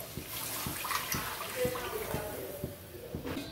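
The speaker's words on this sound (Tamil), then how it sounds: "இப்போ கொஞ்சம் தண்ணியும் பாலுமாக ஊற்றிக்கலாம்" Water and milk pour into a pan of roasted sago for semiya payasam, a steady faint liquid splash with soft regular taps running through the whole moment, fairly quiet and close.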